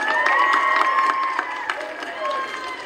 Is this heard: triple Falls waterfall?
no